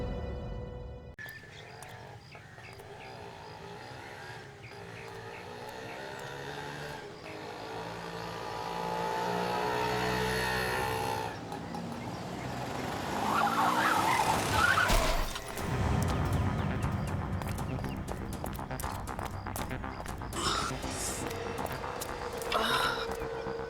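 A car drives up with a rising engine roar that peaks and then cuts off abruptly as it brakes, set among dramatic background music in a crime drama scene.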